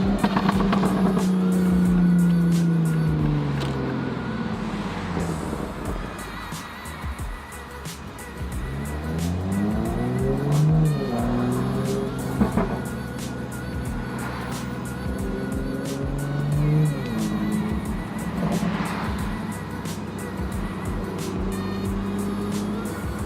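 A Toyota MKV Supra is driven hard, its engine revving up and dropping through several gear changes with a loud, continuous exhaust note and road roar, with no one speaking.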